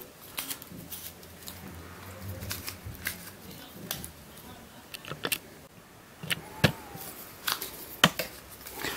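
A vintage 1980s Soviet or Hungarian twisty puzzle is turned by hand, giving close, sharp clicks and ratchety snaps in irregular bursts over soft handling rustle, with occasional low talk.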